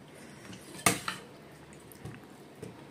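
Curry being served onto a plate, with one sharp clink of a utensil on the plate followed by a few softer taps, close but quiet, no talk.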